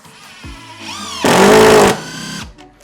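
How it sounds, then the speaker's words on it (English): An impact driver whirs up, then a loud rattling, ratcheting burst as a screw is driven into wood, then winds down and stops. "what it sounds like when you're driving something in with the impact driver"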